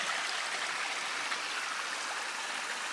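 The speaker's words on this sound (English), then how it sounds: "The obligatory flowing water shot." A stream of water flows through a culvert on the trail at Squires Lake, a steady, close, unbroken rush with no voices.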